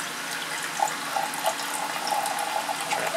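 Green copper acetate solution is poured off a precipitate in a small lab setup, giving a thin, continuous trickle of liquid with faint splashes and gurgles close by and no talking.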